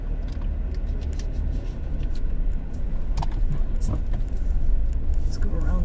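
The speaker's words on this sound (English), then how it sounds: "That bass on that car." A car on a street in Savannah, Georgia plays loud bass-heavy music, a continuous deep thumping rumble mixed with passing traffic noise, with a person talking over it.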